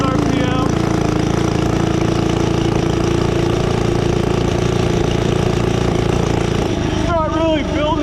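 A 79cc minibike engine with a torque converter runs steadily at about 3,000 RPM with a loud, even drone. A person talks over the engine near the end.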